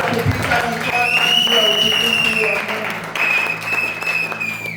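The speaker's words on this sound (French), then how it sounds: "Est-ce que nous pouvons acclamer très fort pour le roi du monde?" Congregation applauding and cheering during a French-language Sunday church service, steady loud clapping filling the room while voices and sustained tones carry over it.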